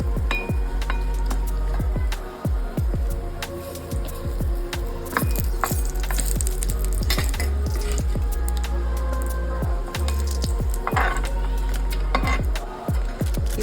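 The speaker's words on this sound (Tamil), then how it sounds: "இது மாதிரி செவக்க வறுத்துங்க." Cinnamon and dried red chillies frying in hot oil for an onion coconut chutney, with steady sizzling and frequent crackling pops and clinks from the pan throughout, no talking.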